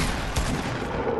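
Gunfire from a video game fills a brief moment as one dense, loud burst of noise with no clear gaps between shots.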